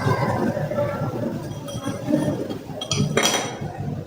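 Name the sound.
spoon clinking in glass while mixing in jaggery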